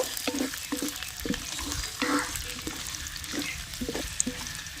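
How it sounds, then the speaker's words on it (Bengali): Chopped onions fry in hot oil for a chicken do pyaza, a steady close sizzle broken by a few scraping stirs of a spoon against the pan, with no talking. "পেঁয়াজগুলো একটু হালকা করে ভেজে নেব"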